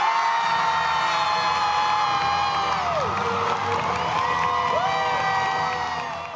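A large crowd at a Doctor Who fan convention cheers, whoops and shouts loudly for Mark Gatiss, a dense, sustained roar of voices with applause underneath that eases slightly at the end.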